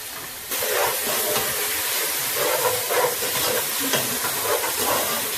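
Ginger paste hits a hot pot for a Gambian chicken and peanut groundnut stew, giving a steady close sizzle and hiss with light scraping and stirring throughout, no talk.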